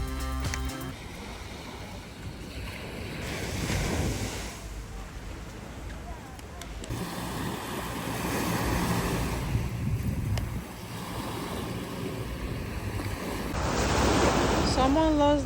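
Ocean waves wash onto a beach in a continuous roar that swells and eases, mixed with gusty wind buffeting the microphone.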